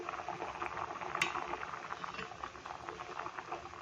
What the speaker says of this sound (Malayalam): പരിപ്പ് നന്നായിട്ട് വെട്ടി തിളച്ച് വേകട്ടെ